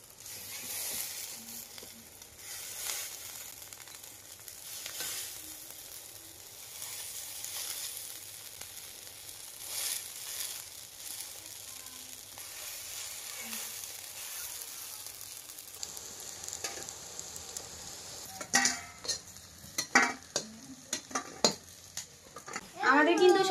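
Rice, pumpkin and lentil fritters frying in hot oil, a continuous close sizzle with repeated spatula scrapes and metal clinks against the pan, growing busier and louder toward the end.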